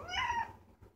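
A single short cat meow, fairly faint and close, fading out quickly with nothing else around it.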